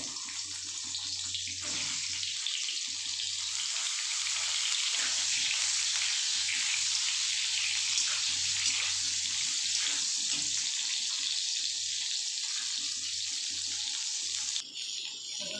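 Halved pointed gourd (potol) pieces shallow-frying lightly in oil in a pan, a steady broad sizzling hiss heard up close for a long stretch, with a brief clatter near the end.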